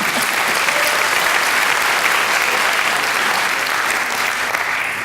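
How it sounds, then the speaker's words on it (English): Steady, dense applause from a live audience at a talk event, loud and continuous throughout with no voices over it. "You can clap."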